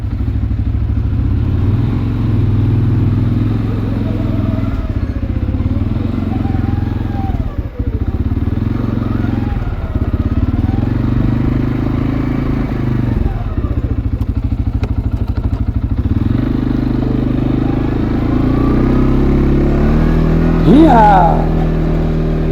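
CFMOTO C Force 400/500 ATV engine running steadily while driven around a property, a loud close motor drone with shifts in pitch as gears change and a brief rev near the end.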